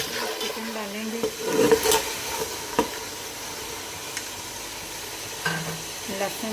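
Chicken dropped into a pan of browned onions and oil for pulao, a burst of sizzling and stirring scrapes, with a few quieter clatters and continued frying afterward.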